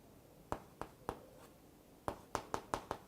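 Chalk or a marker taps and strokes on a lecture board in a quiet room, giving sharp, separate clicks: a few spaced ones, then a quicker cluster of five near the end.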